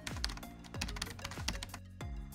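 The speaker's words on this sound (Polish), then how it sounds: "W nazwie wpiszmy Spotify." Keys clack on a computer keyboard while a Spotify name is typed into a Home Assistant setup screen: four clear bursts of keystrokes in a steady rhythm, close and fairly quiet, with no talking.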